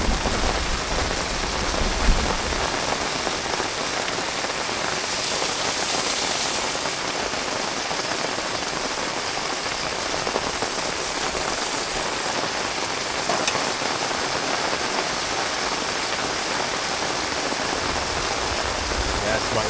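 Heavy rain falls steadily on a campsite during an Australian thunderstorm, a dense continuous hiss of drops on surfaces that drowns out a campfire as it is put out, loud and unbroken throughout.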